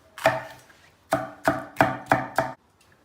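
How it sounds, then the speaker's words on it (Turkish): A knife chops through kapia peppers on a board: one strike, a pause, then five quick, crisp chops in a steady rhythm, close and fairly loud. "Kapya beri en son doğrayacağız."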